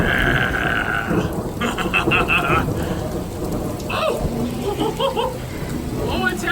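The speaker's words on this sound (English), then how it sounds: "It is still raining." Steady rain pours during a thunderstorm, a dense hiss of drops close by, with brief voices and small noises over it.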